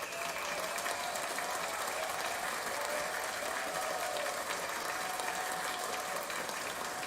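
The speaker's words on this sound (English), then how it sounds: "Let's give Jordan an applause." Applause from a crowd honoring Jordan Calais on a talk show, a steady, faint wash of clapping running throughout without pause.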